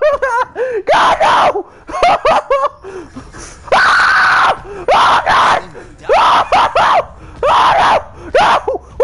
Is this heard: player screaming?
yes